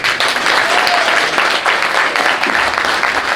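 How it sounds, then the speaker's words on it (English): Sustained applause from an audience at a Sierra Leone citizenship ceremony, dense steady clapping filling the whole stretch at close range with a faint voice underneath. "Let's give the President a round of applause."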